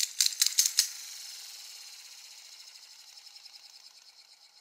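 A small Ninninger Nin Shuriken toy opens with a few quick rattling lever clicks, then spins up to a high, fast whirring buzz. The whir fades slowly over several seconds. It is close and fairly quiet, with no talking.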